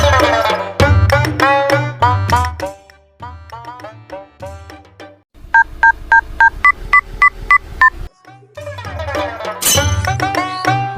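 A phone keypad sends a quick run of about nine evenly spaced dialing beeps, loud and close, with voices talking before and after.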